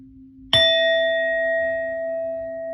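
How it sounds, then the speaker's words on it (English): A bell used to cleanse tarot cards is struck once, giving a bright, clear ding that rings on steadily and slowly fades in a quiet room. "we're going to hit this bell"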